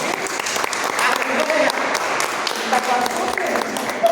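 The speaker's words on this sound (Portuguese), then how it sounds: "Eu quero que todo mundo dê uma salva de palmas para eles." A church congregation claps for newly named cell group leaders, steady dense applause filling the room throughout, with voices mixed in beneath.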